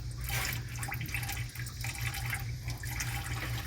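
Fluid trickles and splashes steadily into a drain pan beneath a vehicle during a brake job, a continuous close watery pour over a low engine rumble.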